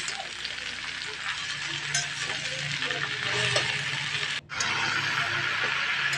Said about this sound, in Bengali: এই শাকটা আমি দিয়ে দিচ্ছি আলুর মধ্যে এবার ভালো করে ঘেটে দিব আমি